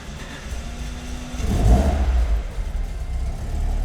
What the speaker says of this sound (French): Et ensuite, je maintiens le régime moteur à 1500 tours minute jusqu'à ce que la voiture soit chaude.